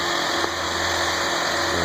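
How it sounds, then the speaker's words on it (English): An engine-powered vibrator screed, about 15 feet long, runs on fresh concrete at a residential lot, a steady close mid-pitched motor drone with constant vibration and no breaks. "vibrator thing to vibrate that concrete level"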